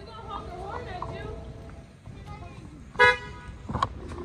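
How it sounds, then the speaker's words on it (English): A car horn gives a short, loud toot over steady road noise and background chatter from people nearby, followed by a second, fainter beep a moment later. "She's gonna honk her horn at you!"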